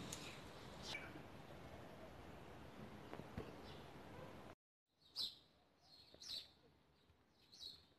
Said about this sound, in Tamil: இங்கே பறவை ஒலி சத்தம் எவ்வளோ அழகாக இருக்குன்னு பாருங்கள்